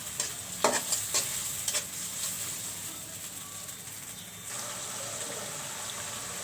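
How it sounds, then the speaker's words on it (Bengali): Masala for a tilapia fish curry stir-fried in hot oil, giving a loud, continuous sizzle with spatula scrapes and knocks against the pan, busiest at the start. "মশলাগুলো একটু কষিয়ে নিব।"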